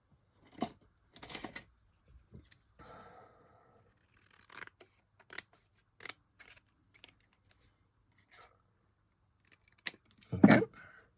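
Scissors snipping through paper while unpacking an advent calendar: a handful of short, crisp cuts spaced irregularly through quiet gaps, close and clear, with a denser cluster of snips near the end.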